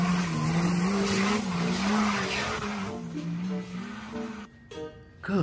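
A toy off-road car runs through play at home, giving a continuous whirring, skidding motor whine with a steady pitched hum that wavers and fades near the end, fairly close and loud with no talk over it.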